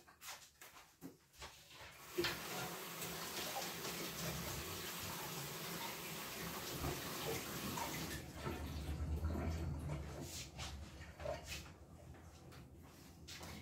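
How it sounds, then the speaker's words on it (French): Hands being washed under a running tap in a home kitchen: a steady rush of water splashing into a sink, starting abruptly and running continuously for several seconds before tapering off, close by with no talk. "je vais me laver les mains"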